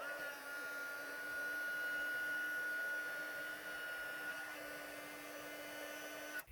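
Heat embossing tool warming a handmade card, a steady whirring blower with a high whine that runs unbroken for about six seconds before cutting off, heard alone and close.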